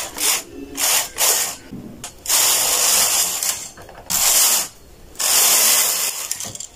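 Knitting machine carriage passing back and forth over the needle bed to knit two rows of a bubble-pattern baby beanie, giving several loud whooshing, rattling sweeps separated by short pauses, with no talking.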